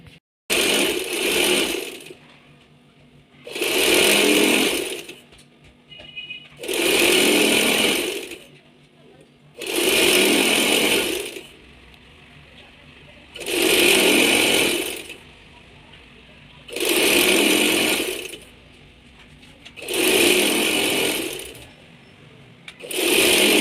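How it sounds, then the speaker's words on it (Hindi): A sewing machine stitches strips onto a trouser for a cross-plate design, running in eight steady, evenly spaced bursts with short pauses between, loud and close. "यहाँ हमने उन पट्टियों को सिलाई कर लिया है"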